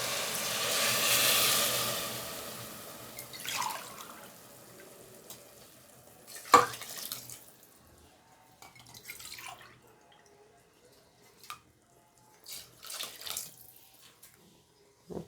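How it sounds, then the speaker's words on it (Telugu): Water being poured into a cooking pot of rice for meal maker biryani: a brief faint splash and pour at the start, then scattered soft drips and small clinks in a quiet kitchen. "ఇప్పుడు నేను దీంట్లోకి 3 గ్లాసులు వాటర్ వేసుకుంటున్నా."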